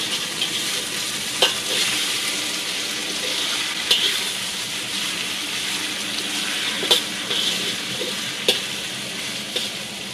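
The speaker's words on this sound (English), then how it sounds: "So now I'm going to start stir frying the meat." Meat for Mongolian beef stir-frying on a hot griddle outdoors, a steady loud sizzle with occasional sharp scrapes and clicks of a spatula, no talking.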